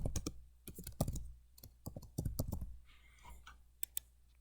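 A sheet name typed on a computer keyboard in a spreadsheet program: a quick burst of close, uneven key clicks followed by a pause and a few scattered taps.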